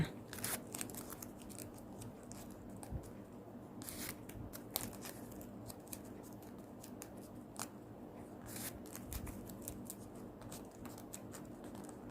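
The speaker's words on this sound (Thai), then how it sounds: "พอได้แบบนี้เราก็ตัดปลายริบบิ้นทิ้งค่ะ" Scissors snip the loose ribbon ends while finishing a decorative Thai lotus-flower coin garland, a run of short, crisp cuts at close range with light handling rustle between them and no talk.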